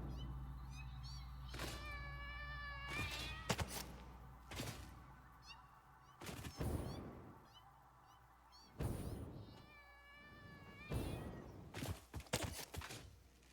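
Cartoonish cat meows replacing spider creatures in the video game Satisfactory's arachnophobia mode, several separate mewing calls mixed with thuds and game effects over a steady background hum.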